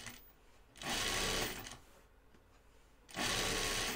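A sewing machine hems the edge of a vinyl pocket in two loud, steady close-up bursts, a longer run and then a second one, separated by a quiet pause with faint handling.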